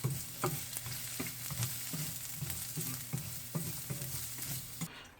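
Carrots, onion and fish cake stir-fried in a pan for japchae, with a steady sizzle broken by regular scraping and tossing strokes close by.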